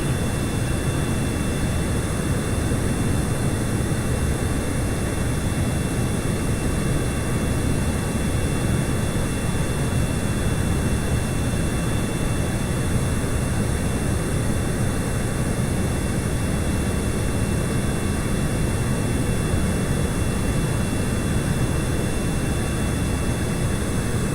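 Jet aircraft engine in Kerbal Space Program gives a steady, loud broadband roar with a constant high whine, unbroken and with no talk.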